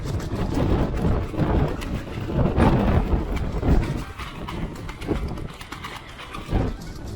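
Strong gusty wind buffets the microphone with a loud, continuous broadband roar that surges and eases throughout.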